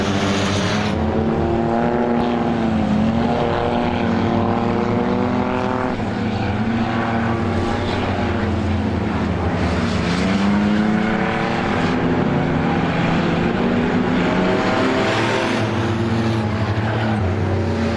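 Race cars roar around Star Speedway during a feature race, engines rising and falling in pitch as they pass, loud and continuous with no talking.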